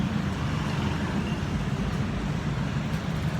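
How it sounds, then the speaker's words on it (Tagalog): Steady, dense road traffic with many vehicles passing, heard as a continuous low rumble and wash of tyre and engine noise that stays fairly loud and even throughout, with no distinct single pass standing out. "daming sasakyan guys"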